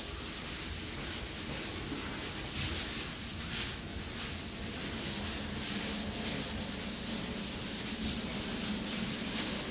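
Wet sanding of a primed Fiat Spider body panel, a continuous close, rough rubbing hiss with a regular back-and-forth sweep, steady and unbroken throughout.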